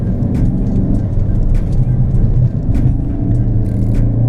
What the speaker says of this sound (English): The diesel engine does put out quite a nice little punch.